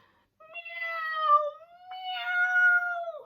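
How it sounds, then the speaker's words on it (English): A cat gives two drawn-out, wavering meows in a row. Both are close and clear against a silent background. ""Meow, meow," agreed Hamish pitifully"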